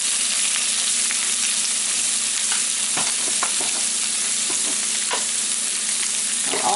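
Ground meat sizzles and fries in a pan with Creole seasoning, a loud steady crackle with occasional stirring scrapes, close by.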